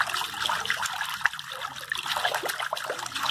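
Water trickling and splashing in a basin as household bleach is poured in and stirred to sanitize vegetables and garlic, a soft close liquid sound with small splashes and no talk.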